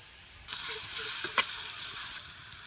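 Green chili paste is dropped into a pan of hot oil with mustard seeds and bursts into a loud, steady sizzle close by, with a few small pops and a scrape partway through; no talking.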